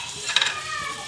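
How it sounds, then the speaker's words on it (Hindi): Chopped tomato drops into a keema pan and is stirred, giving a brief burst of sizzle and a scrape near the start over a steady soft frying hiss, close and fairly quiet. "ये देख सकते हैं मेरे पास चॉप हुआ 1 अदद टमाटर है, ये मैंने अब इसमें डाल देना है।"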